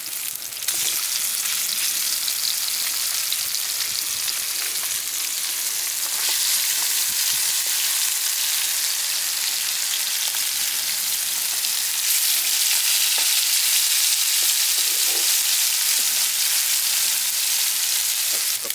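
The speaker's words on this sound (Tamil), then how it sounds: "ஒரு 2 நிமிஷம் நல்லா மசாலா செட் ஆன பிறகு எண்ணெயில் பொரிஞ்ச பிறகு அதுக்கப்புறம் நீங்கள் திருப்பி வச்சுக்கலாம்" Masala-coated fish frying in hot oil, a steady dense sizzle that holds at the same level throughout, close and loud, with no one speaking.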